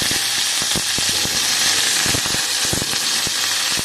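Bori dumplings sizzle and crackle loudly in hot oil with dried red chillies, giving a dense, continuous hiss broken by sharp pops and spits close by.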